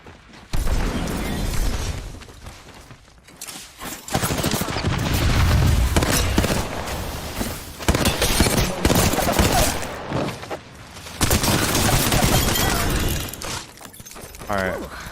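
Busy Apex Legends combat at an ALGS championship broadcast: rapid weapon fire, shattering impacts and mechanical clatter come in dense waves, with commentators talking over the action throughout.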